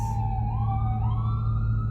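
An ambulance siren on a Los Angeles street wails loud and close, its pitch gliding up and down over a steady low engine rumble, with no talking.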